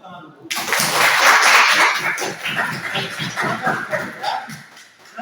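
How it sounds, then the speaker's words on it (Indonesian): Schoolchildren in a classroom clap together, a dense rhythmic burst of claps that swells, then settles into a looser, uneven patter before fading. "Baik, berikan tepuk tangan dulu"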